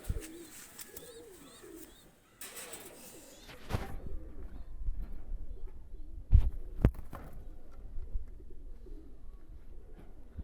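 A Pakistani high flyer pigeon is released by hand, followed by wing flaps and soft cooing over outdoor background noise, with a few sharp louder knocks near the end.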